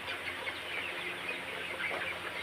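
Broiler chickens of the coloured-bird breed, 36 days old, cluck softly and steadily, a close flock murmur, while they are weighed on a village farm scale.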